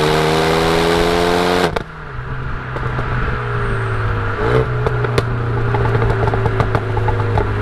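A Renault Megane RS Red Bull Edition with a Milltek exhaust and Stage 2 tune, idling loudly close by. A brief high rev drops to a steady engine drone with occasional sharp clicks and pops, and no voices.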